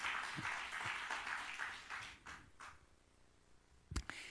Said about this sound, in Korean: 우리 영광의 박수 한번 돌립니다